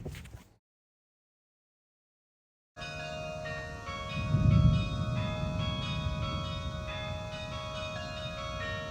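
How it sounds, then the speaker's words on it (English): Bell tower bells ring in a town during a spring thunderstorm in Greenville, South Carolina, sustained tones hanging over a low rumble that swells briefly, after a short burst of sound and a silent gap. "The bell tower's unique choice of musical accompaniment is upstaged only by the thunder emanating"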